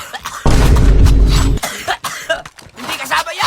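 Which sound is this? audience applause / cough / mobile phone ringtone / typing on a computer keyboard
cough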